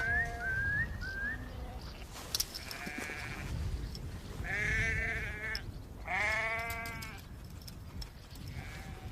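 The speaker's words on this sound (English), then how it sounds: "Some of the sheep tried to go the wrong way" Sheep bleat repeatedly in an open field, several drawn-out calls of varying pitch rising over a breezy outdoor background, fairly close.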